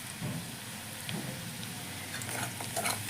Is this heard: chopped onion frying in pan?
yes